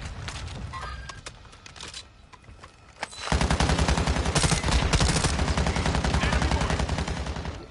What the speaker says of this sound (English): Someone's mortaring? Oh, that's us.